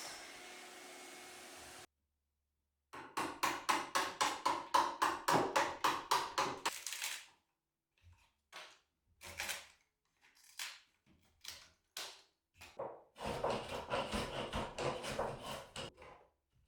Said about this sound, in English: Then the last bits I can remove with a hammer and chisel.